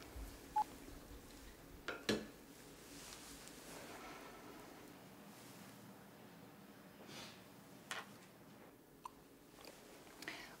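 Faint, brief beeps of a telephone being dialed, a few scattered tones in an otherwise quiet room.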